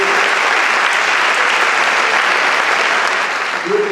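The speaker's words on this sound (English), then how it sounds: "Big round of applause for both houses." Loud, sustained audience applause filling an indoor hall after a debate on capital punishment, steady dense clapping throughout that eases slightly at the very end.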